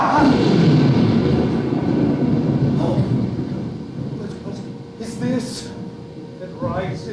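A deep, rolling thunder sound effect from a stage performance of Macbeth rumbles loudly and gradually fades, with brief vocal bursts from the performers over it.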